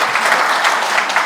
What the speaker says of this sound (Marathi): यांच्यासाठी टाळ्या वाजवू आपण.